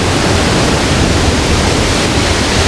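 A roughly five-metre waterfall roars loud and unbroken nearby, a dense, steady rush of falling and flowing water filling the scene with no voices.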